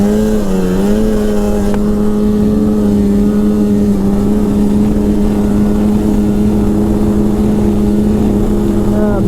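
A 2002 Polaris Super Sport 550 fan-cooled snowmobile engine held at speed, giving a loud, steady, close droning whine with a slight pitch wobble and a constant rush of wind and track noise.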